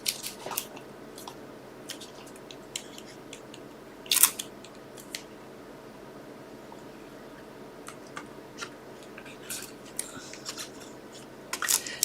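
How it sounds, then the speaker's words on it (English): Scissors cutting out paper pieces for a flat book album, giving sparse, soft snips and rustles close by in an otherwise quiet room, with a few sharper clusters of cuts. "So just cut all these out quickly"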